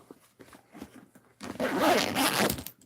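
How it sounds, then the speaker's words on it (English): A few faint rustles, then a zipper is pulled open in one long, loud, scratchy run close by. "So you have a recessed zipper, but it actually opens up."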